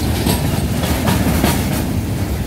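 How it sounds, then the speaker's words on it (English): A train rolls past a trackside viewing deck in Waycross, Georgia, a loud, continuous close-up rumble with rhythmic clickety-clack from the wheels and no voices. "I just happened to make it here as the train's passing by."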